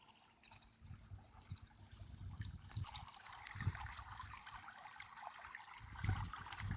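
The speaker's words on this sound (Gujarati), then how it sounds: "પાણી આ ધોરિયામાંથી બહાર નીકળતું હતું" Irrigation water trickles and gurgles steadily from a burst farm channel, growing a bit stronger partway through, with low rumbling underneath and no talking.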